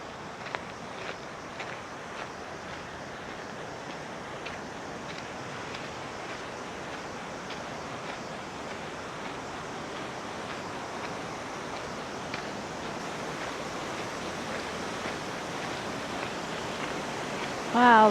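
Cold mountain creek water near Zapata Falls rushes in a steady, even broadband hiss, continuous and close with no break across the whole stretch.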